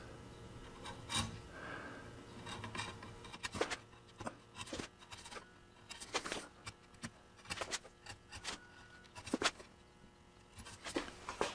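Bevel-up hand plane chamfering the ends of a wooden trestle horse, a series of quiet rasping strokes in irregular rhythm, close by and alone with no talk.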